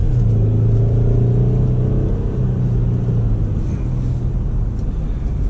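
A 2005 Toyota Highlander V6 Limited with high mileage pulls out onto a main road and builds speed, its engine a loud, steady low rumble with a faint tonal drone from inside the cabin.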